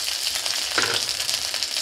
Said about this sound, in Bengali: তেল গরম হয়ে গেছে, দিয়ে দেবো তেজপাতা, দিয়ে দেবো আদা বাটা